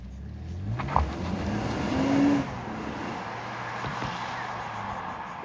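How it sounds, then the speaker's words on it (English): A Nissan Pathfinder driving at normal speed, heard from inside as a steady low engine and road rumble with a short swell of revving around the middle, then an even hum, with no talking. "driving the Nissan Pathfinder"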